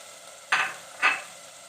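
Spices and tomatoes frying in a cooking pot for a Pakistani urad dal mash dish, heard as two short sizzling stir bursts over a quiet background, close by and without talk.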